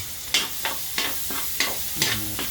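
Garlic for spaghetti sauce sautés in a pan under brisk, rhythmic stirring, with quick scraping strokes about every third of a second over a continuous close sizzle.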